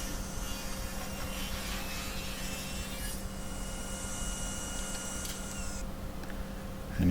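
Power saw ripping cherry wood into thin quarter-inch strips, a continuous whining cutting hum with steady grinding texture and tonal changes as the blade works through, close and loud.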